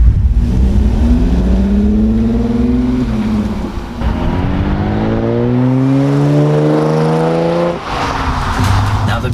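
A 460-horsepower Audi S4 with a 6-speed and all-wheel drive revs hard through a full Milltek exhaust. Its loud, rising engine note climbs in several long pulls, dipping briefly between them, close and dominant throughout.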